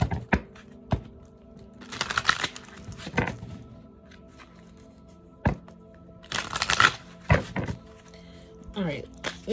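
Cards are riffled and bridged in a few quick bursts, separated by soft taps, thunks and handling noises at close range.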